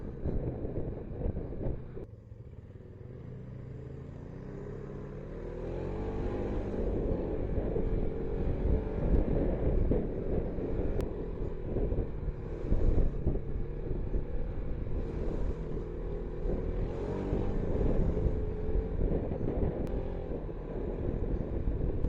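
A car driving along a road, a steady low engine and road rumble with wind noise, continuous and close throughout.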